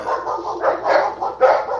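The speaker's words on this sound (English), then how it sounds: "Yeah, dog trying to protect the household." A household guard dog barks repeatedly at close range, a rapid run of sharp woofs with a couple of louder peaks near the end, alone without talk.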